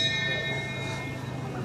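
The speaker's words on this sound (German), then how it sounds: "Und die Glocke ist das Zeichen für den Start." A start bell at a 2014 jumping competition in Gunzenhausen rings with a sustained, steady metallic tone that slowly fades, heard over a low background murmur.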